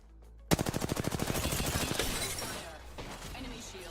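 Rapid automatic gunfire in Apex Legends, a loud burst of about fifteen evenly spaced shots that then fades into a noisy tail, with a little speech underneath.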